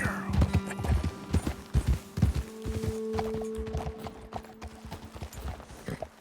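Horse hooves clip-clopping in Red Dead Redemption 2, several horses walking at a steady uneven rhythm over ground, close and clear, with a low background hum.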